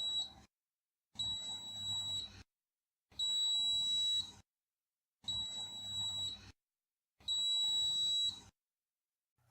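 A FertilityBox DogType test device beeps in five evenly spaced bursts, each a sustained high tone lasting about a second with short silent gaps between.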